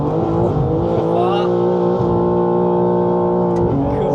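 A car on a Slovenian road revs hard under acceleration, its loud engine note climbing through the gears with brief shifts, while people inside talk over the roar.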